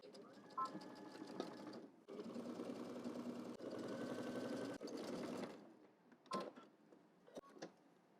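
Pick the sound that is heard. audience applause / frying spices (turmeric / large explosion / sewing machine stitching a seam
sewing machine stitching a seam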